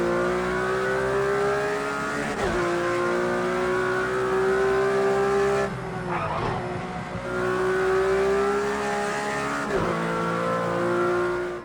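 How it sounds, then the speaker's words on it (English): Old-school Lotus turbo race car in Project Cars 2, engine revving high toward 9,000 rpm with rising tones, brief drops at gear changes, loud and continuous. "How good is the sound though? These things are known for it as they rev to 9 grand"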